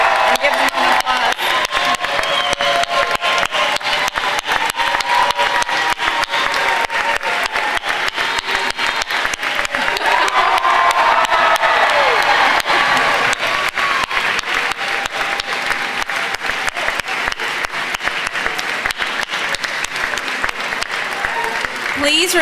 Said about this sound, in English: Please stand and give them an applause.